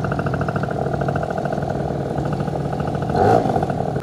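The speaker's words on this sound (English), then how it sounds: "this bike is not too good at low speeds" A Vento Triton R4 motorcycle engine running close by with a steady, throbbing mid-pitched drone and a brief louder surge near the end, with no voices.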